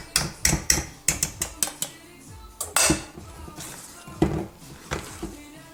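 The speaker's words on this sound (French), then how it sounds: "Et ensuite, on mélange." A spoon or whisk clinks rapidly against a bowl while tiramisu cream of eggs and sugar is mixed for a cherry tiramisu, with irregular bursts of knocks and scrapes close by.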